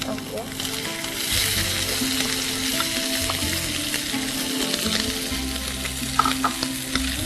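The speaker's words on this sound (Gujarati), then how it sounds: "હવે આની અંદર કોર્ન લેવાની છે" Boiled corn kernels sizzle and fry in a pan for cheese corn bhartha, a continuous crackling sizzle with stirring and clinks of a utensil against the pan.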